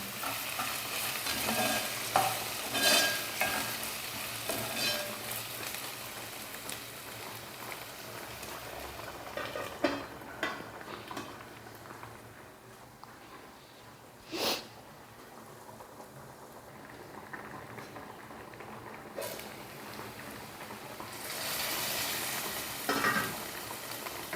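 Ginger garlic paste sizzles among onions in a pan, a soft continuous frying hiss broken by scattered louder stirring scrapes and a few sharp clatters, fading quieter in the middle before swelling again.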